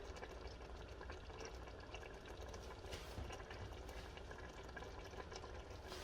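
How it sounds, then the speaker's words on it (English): Water bubbles at a steady boil in a cooking pot, ready for macaroni for a cheesy hamburger casserole, a faint continuous churning hiss with no other sounds. "That's bubbling, so I can go ahead on and add my macaroni."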